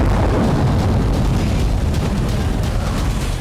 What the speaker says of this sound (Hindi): एयरबेस पर रह रहकर धमाके भी हो रहे हैं।